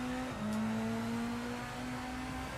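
A race car engine in Project Motor Racing holds a steady tone as the throttle is eased on, with a faint slow rise in pitch and no voices.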